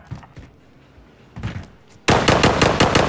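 Gunfire in Call of Duty: Modern Warfare: a few faint, scattered shots, then a loud, close burst of rapid automatic fire with evenly spaced cracks that fills the final second.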